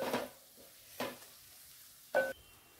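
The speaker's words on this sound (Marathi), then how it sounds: "कांदा छान गुलाबी रंगावर परतून घ्यायचा आहे आपल्याला" Onion being stirred and sautéed in a pan for kothimbir zunka, a gram flour dish; three separate scraping stir strokes over a faint sizzle, close and fairly quiet, with no talking.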